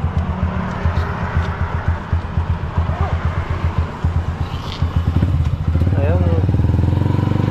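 Motorcycle engines idle and putter with a steady rhythmic thump at a Yamaha motorcycle shop, and one engine grows louder near the end while a person speaks briefly.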